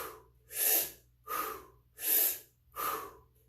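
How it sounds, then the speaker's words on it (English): Slow, deep breathing during a relaxation exercise: four long, airy breaths in a steady rhythm, each swelling and fading with brief quiet gaps between, close to the microphone and alone. "So you're going to take a deep breath in and relax."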